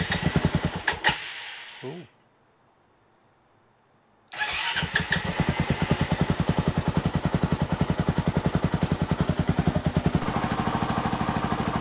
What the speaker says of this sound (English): I don't know if you can hear me over that engine noise